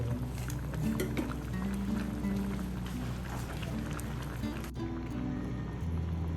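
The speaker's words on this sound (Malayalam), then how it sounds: "അങ്ങനെ തിളച്ചിട്ട് വരുന്നുണ്ട്" Chicken curry boiling in a pot, a steady bubbling wash of liquid that runs through the whole stretch over a low tonal background.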